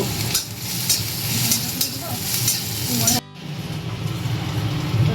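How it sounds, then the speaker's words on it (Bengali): Cumin and potatoes fry in a pan with a close, crackling sizzle and stirring scrapes. The sound cuts abruptly partway through, then the sizzle resumes more softly. "জিরে অল্প দিলাম, আলুগুলো দিয়ে দিলাম"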